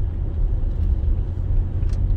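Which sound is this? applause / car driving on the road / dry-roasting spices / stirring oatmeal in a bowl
car driving on the road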